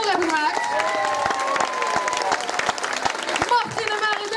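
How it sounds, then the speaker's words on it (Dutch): Applause and cheering from the audience at a Frozen musical, with brisk clapping and excited high voices, some children among them, running throughout. "Dus ook een applaus voor de mensen die decor hebben gemaakt."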